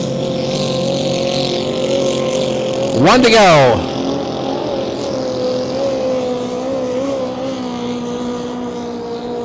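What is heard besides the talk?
vintage inboard race boat revving through turns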